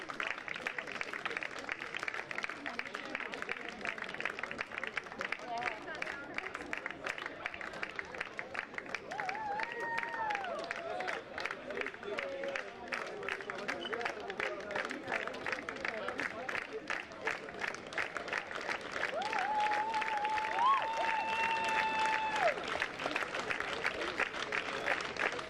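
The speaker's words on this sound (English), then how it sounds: "Thank you to the fans staying here, cheering for the team." Fans applaud and cheer late at night as a baseball team receives its trophy and bronze medals at the European Baseball Champions Cup, with steady dense clapping and crowd noise throughout, plus faint voices and whistles.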